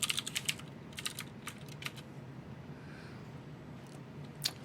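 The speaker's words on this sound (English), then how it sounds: "And then we're going to type in root" Quick taps on a computer keyboard while a password is typed at a Linux root login, fast and uneven at first, then a sparse final few keystrokes, quiet and close with no talk.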